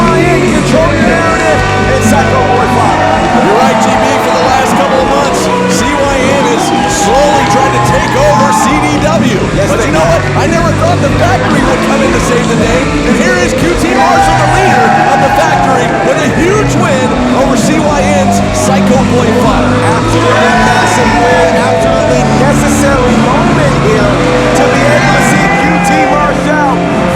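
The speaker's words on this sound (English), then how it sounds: "it's awesome to hear this crowd celebrating with QT Marshall" A pro wrestling crowd at a Championship District Wrestling show roars, shouts and whoops continuously and loudly in celebration, a dense wall of cheering with voices mixed throughout.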